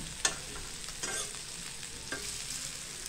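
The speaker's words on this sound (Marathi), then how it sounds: "मसाल्यामध्ये छानपैकी हा बोंबील परतवून घेतलाय." Dried bombil fish being stirred and sautéed in masala in a pan, with a soft continuous sizzle broken by a few scraping stirs, fairly close and without any talking.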